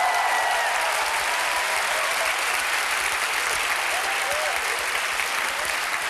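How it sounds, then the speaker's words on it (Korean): Schoolchildren in a classroom burst into sustained applause after a teacher's multiplication-table trick, a dense, steady wash of many small hands clapping close by for several seconds. "박수 한번 쳐라, 이거"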